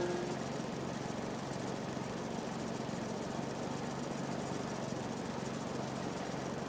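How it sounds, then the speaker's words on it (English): A lawn mower engine in the Farming Simulator game drones steadily as it cuts grass, a constant mid-pitched hum with no breaks or changes, moderately loud and without speech. "This mower goes quick."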